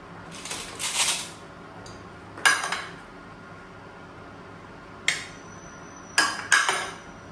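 Cooked pasta is served onto plates with a few separate bursts of scraping and clattering crockery, each lasting under a second, close and fairly loud, with quiet gaps between.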